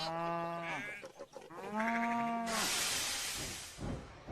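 Cows moo and a sheep bleats nearby in a few long, drawn-out calls, followed by a burst of broadband noise like wind or rustling.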